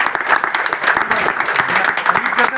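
Audience applause at a religious talk, dense and continuous clapping from a gathered crowd, loud and close throughout.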